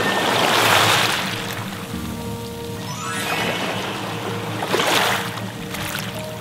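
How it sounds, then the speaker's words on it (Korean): Waves wash in twice over a pebbly shore of smooth round stones on Oeyeondo Island, Korea, each surge rising into a broad hiss and rattle before easing back. "귀를 기울여 소리를 들어보면 몽돌과 파도가 만나는 맑은 소리에"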